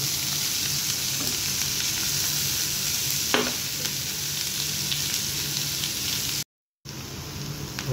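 Green chillies frying and being stirred in a hot oiled pan, a steady close sizzle with scraping stir strokes and one sharp clink, briefly cutting out near the end.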